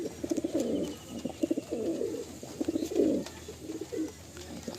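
An active pair of loft pigeons coos softly in repeated low, throaty bursts, a steady rhythm of murmuring calls close by in a quiet room.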